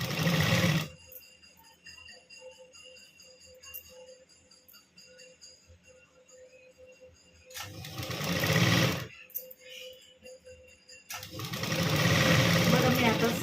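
A sewing machine stitches a katori blouse in short bursts of close, loud whirring, with quiet pauses between runs and soft room noise in the gaps.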